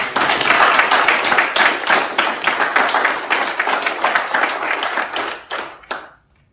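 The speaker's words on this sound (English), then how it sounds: "So again, huge round of applause." A conference audience claps in a dense, loud burst of applause that thins into a few scattered claps and stops abruptly near the end.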